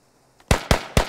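A frag grenade blast in the military shooter Squad, heard as three loud, sharp booming bursts in quick succession, each followed by a brief decaying rumble after a quiet start.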